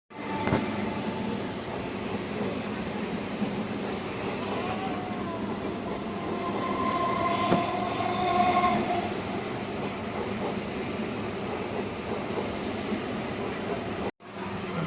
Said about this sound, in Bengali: For down Hashnabad Shialdah local is arriving on platform number 2.